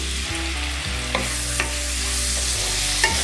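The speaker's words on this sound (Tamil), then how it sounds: "இப்போ இந்த நெய்யில் இந்த வாழைப்பழத்தை விட்டு வறுத்துக்கலாம்." Banana pieces fry in hot ghee for banana balls, a loud steady sizzle heard close up with a few stirring scrapes over it and no talk.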